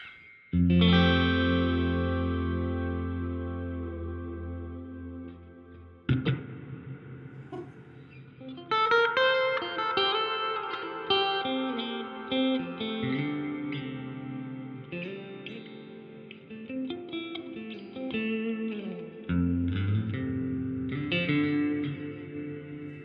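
Electric guitar run through a delay and reverb pedal with the level turned fully up, sustained chords and picked notes swelling into a massive, long-hanging wash of echoes that trails on between new strums.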